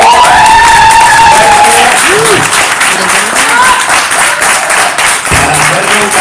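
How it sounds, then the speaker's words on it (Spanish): Audience applause at a Cervecivica comedy and philosophy show, the first gathering after the pandemic; dense, loud clapping throughout, with voices and a bit of cheering mixed in. "Un aplauso."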